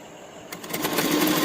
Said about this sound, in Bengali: এবার এদিকের পোর্শনটা আমি সেলাই করে নিচ্ছি।